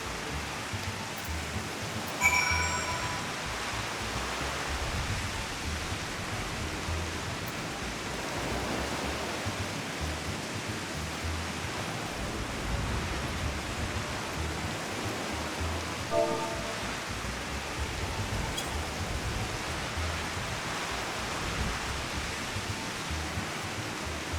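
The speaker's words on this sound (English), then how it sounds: "it's raining like crazy" Steady heavy rain in Final Fantasy XIV pours without pause, a dense hiss of droplets that stays even throughout, with a couple of faint tones surfacing briefly.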